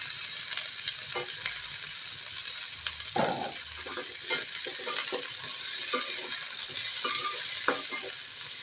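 Cut potatoes and cauliflower frying in a pan, a continuous bright sizzle with occasional stirring scrapes and clatters, close and steady, no one talking.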